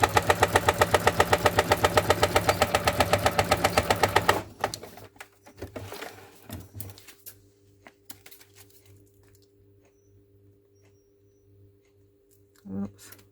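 A sewing machine stitches down the centre of a small paper booklet in a steady, rapid mechanical whir for about four seconds, then stops, leaving faint handling rustles and a low hum.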